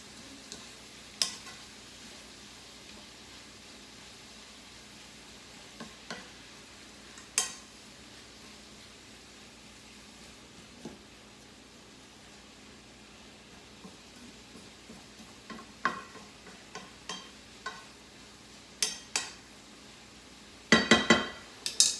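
Rice noodles and vegetables cook in a pan with soy sauce, giving a low, steady sizzle broken by scattered clinks and scrapes of a utensil, ending in a quick flurry of clattering stirs.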